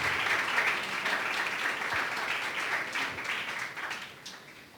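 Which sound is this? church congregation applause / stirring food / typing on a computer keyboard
church congregation applause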